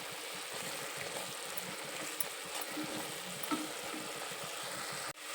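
Milk for village-style carrot halwa boiling in a pan as it is stirred, a soft, continuous bubbling hiss with faint scraping, ending in a sharp click.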